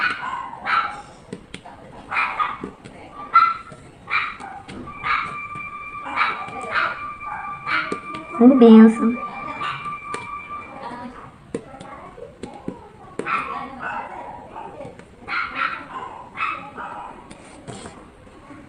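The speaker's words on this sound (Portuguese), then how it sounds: "a cachorrada voltou a latir" A pack of dogs barks, yips and whimpers in bursts around someone speaking Portuguese, some barks close and loud, others farther off, with a sustained tonal whine in the middle.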